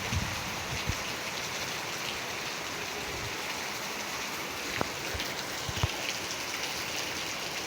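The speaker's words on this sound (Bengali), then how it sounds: "প্রচুর বৃষ্টি হচ্ছে কিন্তু" Heavy rain pours onto a rooftop during a downpour, a steady, dense hiss of drops with a few sharper splats and knocks standing out nearby, and no voices.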